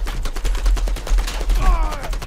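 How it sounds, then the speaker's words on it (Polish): Rapid bursts of gunfire ring out in a Last Man Standing match, layered shots over a low rumble, with a voice talking faintly underneath. "Widziałem gościa za mną i strzela do mnie."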